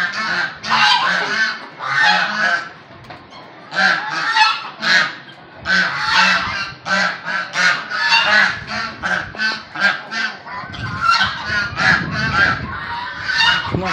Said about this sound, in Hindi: गूज, इतना शोर करते हैं